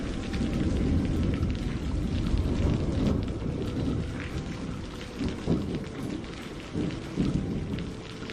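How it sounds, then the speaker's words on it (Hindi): Heavy rain pours down in a dense, steady roar, with a deep rumble underneath and no voices. "बारिश अब और भी तेज होती जा रही थी।"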